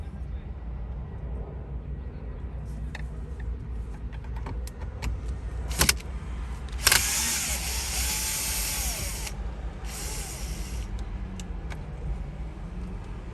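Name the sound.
unscrewing screws on a Mercedes-Benz GLK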